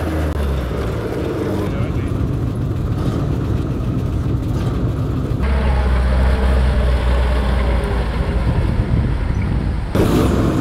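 Heavy tracked armoured vehicles roll out into a tank museum arena, a loud, continuous low engine roar close by, with a voice talking over the rumble.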